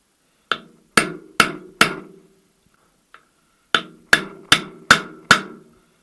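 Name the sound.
tapping in gearbox input shaft seal with a mandrel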